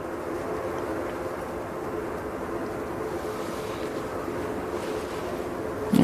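An Airbus A220 lands on runway 05R at Manchester Airport in the early morning, heard as a steady, broad jet roar mixed with wind buffeting the microphone, with a sharp bump right at the end.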